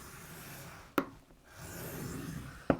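A scoring tool drawn along paper or card for a sweet treat dispenser, with a soft continuous rubbing scrape framed by two sharp taps, close and fairly quiet, no talk.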